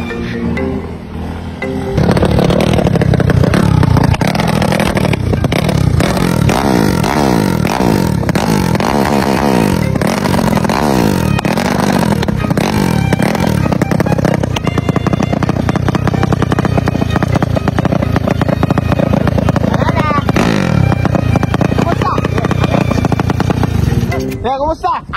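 Motorcycle being ridden and revved during a riding test, a loud close engine roar with repeated throttle surges and rising revs, under frequent shouted talk and some clatter.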